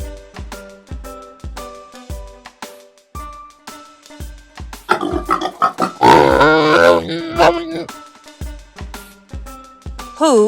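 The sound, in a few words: pig grunting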